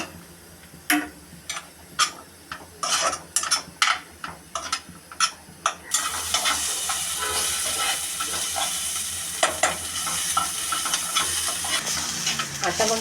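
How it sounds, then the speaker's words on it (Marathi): Chopped onions sautéing in a pan over a very low gas flame for misal pav, with repeated spoon scrapes and stirring clicks, then a steady close sizzle that fills the background. "एकदम कमी गॅस ठेवून मी हा कांदा परतवून घेत आहे"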